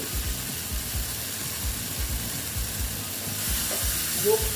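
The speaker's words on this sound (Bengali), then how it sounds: "দেখো আর একটু কষিয়ে নিচ্ছি" Ridge gourd with spices being sautéed in a pan, a soft continuous sizzle under repeated rhythmic scraping strokes of a spatula, close and fairly quiet, with no talking.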